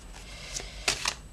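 A tarot card is handled and drawn from the deck, with a few quick, crisp paper flicks and slides close up against a quiet background.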